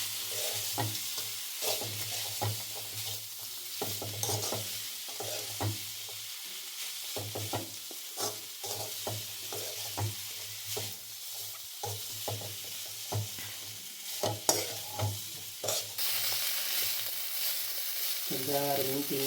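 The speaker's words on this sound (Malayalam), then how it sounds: "നമ്മുടെ മീൻ വെച്ചിരിക്കുന്ന എണ്ണയിലോട്ട് ഇടുക. ഇച്ചിരി നേരം ഇളക്കി ഉണങ്ങണം." Pieces of jackfruit core fry in oil already used for fish, and a spoon scrapes through them in repeated strokes over a continuous sizzle.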